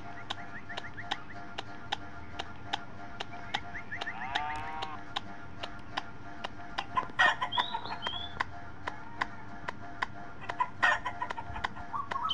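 Chickens clucking with a rooster crowing at a farmyard as hens are chased for eggs, repeated short clucks in an irregular rhythm, moderately close, faint overall with no voices.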